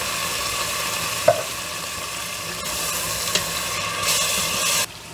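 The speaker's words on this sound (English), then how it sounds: "Now we can add our chopped tomatoes." Chopped tomatoes go into a hot pan of Egyptian moussaka, a steady frying sizzle running throughout with a couple of soft clinks and stirring scrapes, swelling briefly near the end before cutting off.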